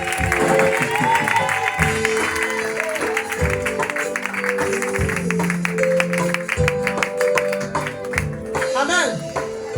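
A church congregation cheers and applauds during worship, with steady clapping and crowd noise under a preacher's loud amplified voice and musical tones throughout.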